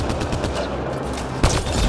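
Gunfire in Mass Effect: Andromeda on PS4, a dense ongoing fusillade of shots with a sharper, louder burst about halfway through, steady and close throughout.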